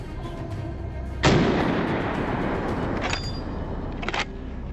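Rifle shot fired at a wild boar on a mountainside farm: one sharp, loud blast followed by a long roaring decay, then a couple of fainter cracks or clicks.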